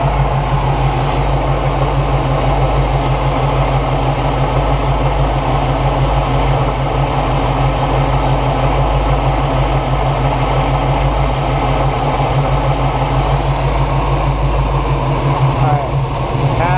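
A 1969 Buick Special Deluxe engine idles with a fuel problem, a loud, steady, close low rumble that holds throughout, with a voice talking over it.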